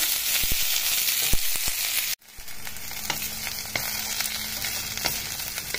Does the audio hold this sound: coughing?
no